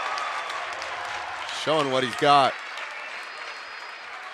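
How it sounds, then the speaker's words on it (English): High school varsity boys basketball crowd in a gym, a wash of applause and cheering under a commentator's voice, with a steady broad roar that stays present throughout. "The McBain crowd getting excited about it too."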